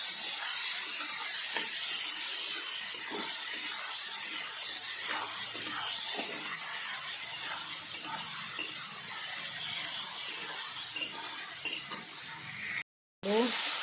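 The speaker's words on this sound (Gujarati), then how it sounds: "હવે આ બધું હલાવીને મિક્સ કરી દઈશું આપણે અને થોડી વાર માટે ચડવા દઈશું" Onions, green chilies and tomatoes are stirred together in a pan for kanda poha, giving a steady close sizzle with scattered scraping clicks of the spoon throughout, cutting out briefly near the end.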